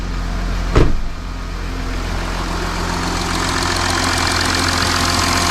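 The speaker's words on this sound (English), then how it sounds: "So the engine is running great." A 2016-era Audi Q7 engine idles smoothly after an oil cooler replacement, a steady, loud near hum with even low-pitched drone; a brief knock or bump at the start, no voices.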